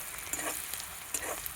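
Chopped onion frying in very hot oil over a wood-fired clay stove on a terrace, a steady close crackling sizzle with small sharp pops and stirring scrapes throughout.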